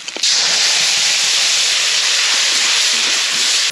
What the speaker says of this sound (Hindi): हाँ, तड़का लगा रही हूँ, चटनी, टमाटर की चटनी, प्याज, मिर्ची, हल्दी